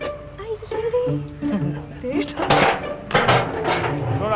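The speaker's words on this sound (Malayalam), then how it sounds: "അണ്ടാവൊക്കെ എടുത്തിട്ട്" Big cooking pots clank and scrape as they are pulled out, metallic knocks and rattles coming in a few bursts close by, with people talking over them.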